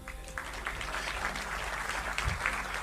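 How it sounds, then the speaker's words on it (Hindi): Audience applause at an awards ceremony for defence industry winners, a steady wash of many hands clapping that fills the space for a few seconds, moderately loud and unbroken. "इस पर तो ताली बजनी चाहिए"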